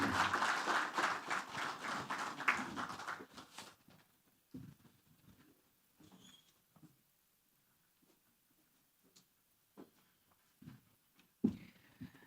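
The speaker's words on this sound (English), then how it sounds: "Another round of applause for Mr." Audience applause at a Bloom Bank Africa business breakfast meeting, a dense burst of clapping for a few seconds that quickly dies away, leaving a quiet room with scattered faint knocks and rustles.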